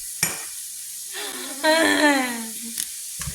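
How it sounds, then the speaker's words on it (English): Vegetables cook down in a pan with a soft sizzle and stirring scrapes, while a voice talks over the sound. "we're gonna cook down these vegetables"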